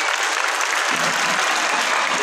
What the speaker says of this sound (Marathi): हाताने टाळ्या वाजवा